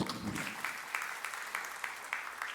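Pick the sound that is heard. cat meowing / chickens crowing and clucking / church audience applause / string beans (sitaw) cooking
church audience applause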